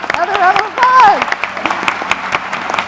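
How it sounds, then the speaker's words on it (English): Scattered clapping from a panel discussion audience patters under a voice that talks through most of the moment. "Another round of applause."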